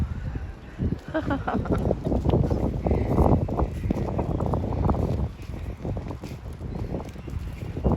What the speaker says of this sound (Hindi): यहाँ ना मिट्टी का तूफान आया हुआ है, खूब हवा चल रही है